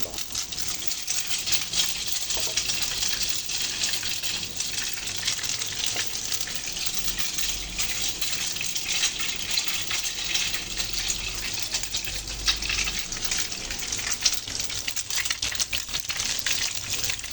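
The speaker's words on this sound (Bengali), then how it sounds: "তেলটা অলমোস্ট গরম হয়ে গেছে, এখন আমি পাউরুটি দিয়ে দিচ্ছি।" Bread slices fry in hot oil in a pan for Bombay toast, producing a steady, dense crackling sizzle with tiny pops that carries on evenly throughout, close and fairly loud, with no talking.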